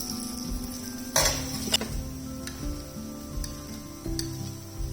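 A radish paratha fries in oil on a pan, a quiet steady sizzle with a sharp metallic clatter near the start as it is turned, followed by lighter scrapes.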